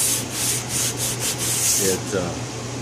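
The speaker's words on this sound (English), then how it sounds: "once I went over block sanding with this guide coat, it showed up" Steady back-and-forth rasping of sandpaper block sanding a guide-coated car panel, close and continuous, in rhythmic strokes with no talking.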